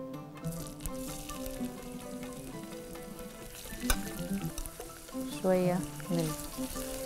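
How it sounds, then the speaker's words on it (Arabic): Chopped onions sizzle steadily in olive oil in a home kitchen pan, a soft continuous frying hiss running beneath background music while someone speaks briefly. "البصل وهنسيبه يدبل خالص"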